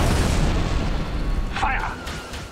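Main guns fire in Red Alert 3 Uprising, a heavy booming blast that rolls into a long rumbling decay, loud and close, with a voice briefly heard over the tail.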